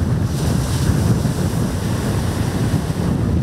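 Strong seashore wind blowing at about 60 km/h roars into the microphone over crashing surf and waves, a loud, continuous, dense rush with no voices.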